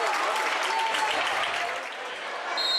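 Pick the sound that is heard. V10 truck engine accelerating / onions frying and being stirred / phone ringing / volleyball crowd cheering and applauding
volleyball crowd cheering and applauding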